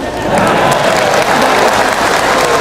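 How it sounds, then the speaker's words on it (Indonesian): Audience at an Indonesian religious lecture breaking into loud, steady applause, a dense wash of many hands clapping close by, with a few voices faintly underneath. "Jangan tepuk tangan dulu"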